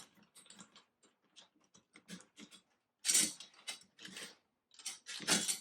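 Metal drum tension rods threaded by hand into the lugs of a drum set tom, a run of small, quiet scraping and ratcheting ticks in uneven bursts that grow denser and louder toward the end, with no one speaking.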